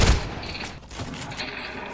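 Video game gunfire crackles in quick bursts and thuds, moderately loud and continuous over the short span, with no voices heard.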